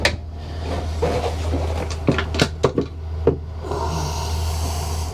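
A drawer beneath the double bed aboard a Hanse 410 sailing yacht is pulled open, giving a cluster of close wooden knocks and sliding thuds over a low steady hum.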